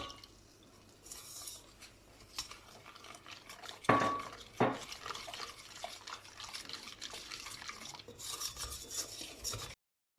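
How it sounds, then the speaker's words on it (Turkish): A spoon stirs a cocoa, sugar and milk mixture in a pot for a mole cake, soft scraping swirls with a couple of louder clinks midway, no voices. "Bunların üçünü birleşene kadar karıştıralım önce."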